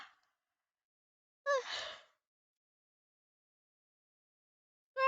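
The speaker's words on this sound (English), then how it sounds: "Sorry about the yawning." A person yawns: a short breathy exhale opens, then a long drawn-out yawn sound lasts about half a second, with another starting at the very end, close and quiet otherwise.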